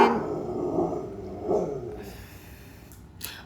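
Dog barking and growling indoors in a room, a run of close, loud gruff barks and snorting growls, easing to a quieter rumble with a few faint sharp sounds toward the end.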